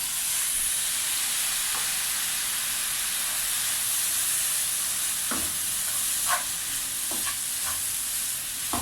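A bread and coconut mixture with milk roasting on low heat for burfi gives a steady soft hiss and sizzle, with a few sparse scraping clicks from stirring.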